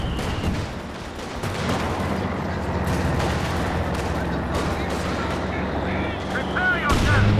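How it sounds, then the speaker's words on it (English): Heavy mortars and other weapons fire in a Company of Heroes 2 multiplayer battle, producing dense, continuous booming and crackling gunfire that stays loud throughout, with occasional sharper blasts layered on top. "these heavy mortars"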